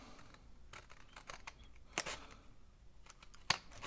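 Scissors snipping through a paper journal page, a handful of quiet, close crisp cuts in an irregular rhythm against a hushed room.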